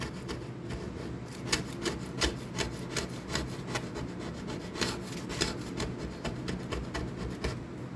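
Repeated rhythmic scrubbing strokes rasp across a cooktop surface being cleaned, faint and steady, back-and-forth rubbing at a close distance with no voices.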